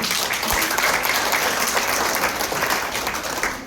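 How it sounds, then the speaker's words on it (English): A crowd applauding at a sales team event, dense continuous clapping from many hands that holds steady and then eases slightly at the end. "So give yourself a round of applause for coming here today."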